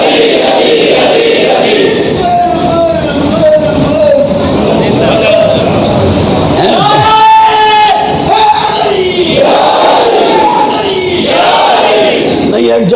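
A crowd chanting the slogan Nara-e-Haidari at a religious gathering, loud massed voices roaring in unison in rising waves, with a lead voice calling and the group answering.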